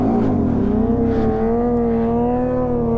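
A motorcycle engine is held at a steady, loud, droning rev while the rider gasses it for a wheelie and eases the clutch out, the pitch holding close and even.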